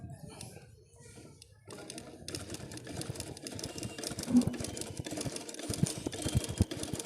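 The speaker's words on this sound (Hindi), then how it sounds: "ये देखें, अब इसकी सिलाई लगा के चेक करते हैं।" A sewing machine runs after its shuttle timing was repaired, a fast mechanical stitching whir that starts after a quiet moment and continues steadily with rhythmic clatter.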